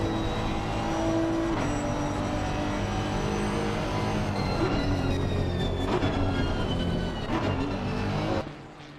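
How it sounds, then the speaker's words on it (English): GT3 race cars downshifting into a corner at Bathurst in a sim racing game, several engines revving and blipping in overlapping bursts, loud and close, fading at the end. "Sounds good when they downshift there."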